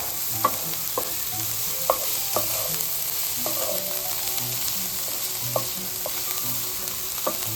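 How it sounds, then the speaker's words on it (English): Onion and garlic fry with a steady close sizzle in a pan over medium-high heat, punctuated by regular knocks and scrapes of a spoon stirring them around. "I'm going to add our onion and our garlic. Stir that up."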